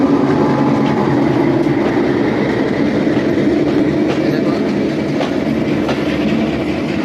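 The Benapole Express passes through Daulatpur railway station in Khulna, Bangladesh, overtaking a standing train with a loud, steady rumble and rolling wheel clatter, while a voice briefly speaks over it.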